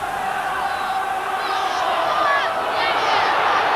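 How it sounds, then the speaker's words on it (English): Hull rugby supporters roar and cheer in a big crowd at the Boulevard during a match against Australia: a loud, continuous wash of voices with rising shouts, and a commentator talks over it. "A big crowd here then at the Boulevard, and Hull's supporters in very good voice."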